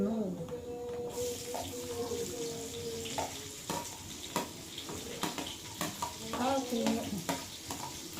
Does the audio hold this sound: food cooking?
yes